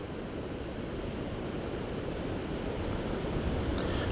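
Ocean waves washing onto a clean beach on Mustang Island near Port Aransas, Texas, a continuous broad rushing surf with some wind buffeting the microphone, steady and moderately loud.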